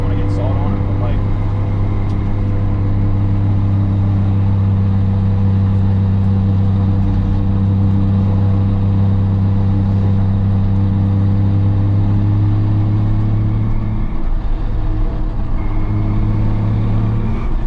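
A BMW 135i drift car cruises on a street, heard from inside as a loud, steady low engine drone with a brief dip in pitch near the end, with talking underneath.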